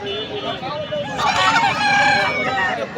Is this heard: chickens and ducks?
yes